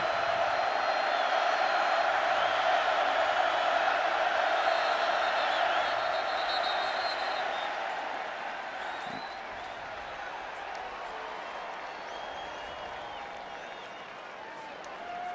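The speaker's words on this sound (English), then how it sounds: "Now the crowd getting into this one." Roaring stadium crowd at a 2009 Baylor versus Oklahoma college football game, sustained loud cheering that gradually eases while a commentator talks over it.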